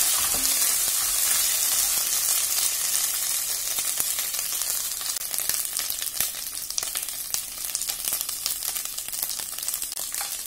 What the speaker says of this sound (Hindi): अब हम इस मसाले को अच्छे से भून लेंगे